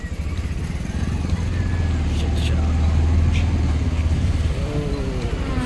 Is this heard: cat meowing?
no